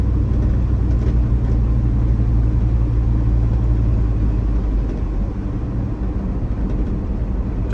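An LS-swapped Ford F150 pickup drives along, its engine a steady, loud low rumble throughout, easing slightly in the last few seconds as the truck shifts.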